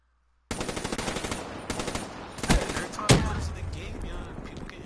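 Gunfire in the video game Black Ops 3: rapid machine-gun bursts start abruptly and rattle on continuously, with a couple of louder heavy shots around the middle, dense and close.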